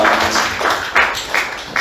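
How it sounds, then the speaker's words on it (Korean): A congregation at a church worship service breaks into loud, dense applause, many hands clapping together in a rhythm of rising and falling pulses. "우리 주님께 영광의 박수 드립니다"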